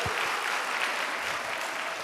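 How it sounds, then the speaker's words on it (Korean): Congregation clapping together at a Friday evening church service, a steady dense wash of applause filling the whole moment with no voices over it. "박수 한번 주세요"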